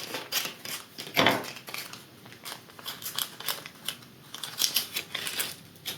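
A small plastic bag of buttons is opened up close, with steady crinkling and rustling of the packaging and a sharper tearing crackle early on, and no voice over it.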